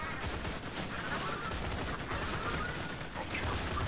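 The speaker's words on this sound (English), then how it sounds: "Shoot it with guns!" Dense, continuous gunfire from the video game Borderlands 2, a rapid rattling fusillade holding steady at moderate volume throughout.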